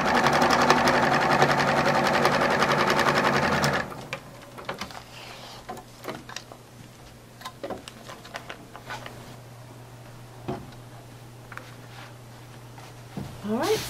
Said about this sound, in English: now my next step is to sew that to this